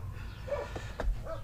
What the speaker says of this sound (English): my darn neighbor's dog, sorry about the barking guys